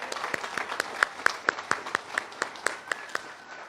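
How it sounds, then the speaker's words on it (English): Audience applause for the Umpqua singers at a 2022 college commencement, thinning to a handful of distinct, evenly spaced claps that ring out near and clear over a quiet hall. "Another round of applause for them,"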